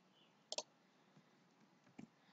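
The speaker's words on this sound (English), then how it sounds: "Click on OK." Two sharp computer mouse clicks on an OK button in a quiet room, the first a quick double-edged click and the second about a second and a half later, both close and crisp.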